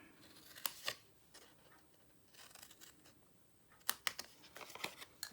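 Scissors snip through scored designer patterned paper in a few crisp cuts, two near the start and a denser cluster of snips toward the end, with quiet pauses between and no talking.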